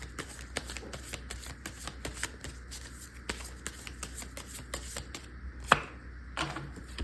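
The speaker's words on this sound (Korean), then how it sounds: "자, 어떤 일이 있으실지 한번 카드를 뽑아보도록 할게요." Tarot cards are shuffled and drawn up close, making a quick run of crisp flicks and light snaps with a few louder slaps, and no voices are heard.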